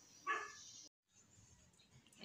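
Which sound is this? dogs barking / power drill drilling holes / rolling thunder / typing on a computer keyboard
dogs barking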